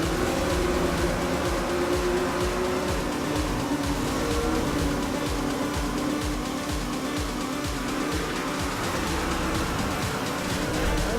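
A car drifts in Need for Speed Rivals, with an engine droning steadily and tires hissing and squealing throughout, loud and close, with no pauses.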